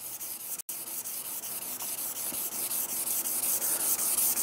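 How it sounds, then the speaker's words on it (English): Close hand sanding with 400 grit abrasive paper on an epoxy pour, a steady soft rubbing hiss in quick repeated strokes after a momentary break near the start, no voices. "At the moment, I'm in the normal abrasive papers."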